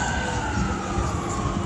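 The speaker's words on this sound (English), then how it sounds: "I think I've seen about 6 or 7 ambulances." An ambulance siren wails steadily in the near distance, a sustained tonal cry over low street rumble through the short stretch.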